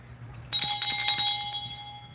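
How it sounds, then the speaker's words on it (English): A small bell rings out suddenly after a quiet moment, a few quick bright strikes with a sustained shimmering tone that fades gradually, close by over a faint low hum. "Let me ring the bell"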